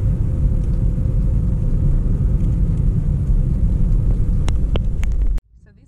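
A car circles a roundabout in Lusaka, Zambia, with loud continuous engine rumble and road noise that cuts off abruptly near the end.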